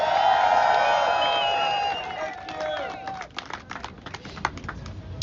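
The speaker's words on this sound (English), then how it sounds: "Applause for our DC representative." At an outdoor protest outside the Supreme Court, a crowd cheers with rising voices and whoops, then breaks into scattered clapping, fairly close and lively.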